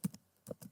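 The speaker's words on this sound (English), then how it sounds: "Now click on the search bar and type" A handful of soft keystrokes on a computer keyboard while typing into a browser search bar, three or four separate taps in under a second, close but quiet.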